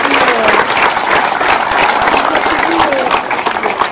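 An audience applauds a municipal team in Saint-Martin, a dense, steady wash of clapping filling the room at close range and holding strong throughout with a bright crackling texture, a faint crowd murmur mixed underneath.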